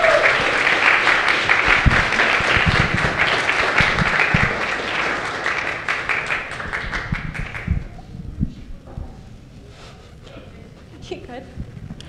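Audience applause at an Astronomy on Tap science talk in a bar, dense clapping filling the first eight seconds and then thinning to scattered claps, with voices murmuring underneath.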